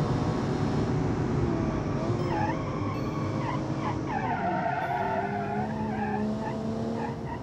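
Car tires skidding and squealing in the BeamNG.Drive driving game, a steady loud engine roar with wavering tire squeal rising over it through the middle and back half, no talking.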